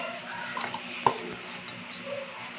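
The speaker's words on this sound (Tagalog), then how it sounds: "we need to put our all-purpose flour, our cornstarch, and our water. Mix it." Flour, cornstarch and water are mixed into batter in a bowl, heard as a few soft stirring scrapes and one sharper clink of utensil against the bowl, close and without talk.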